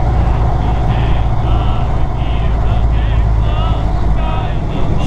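A 1931 Ford Model A engine drones steadily during a ride, a loud, low, continuous rumble with road and wind noise, while a voice talks over it.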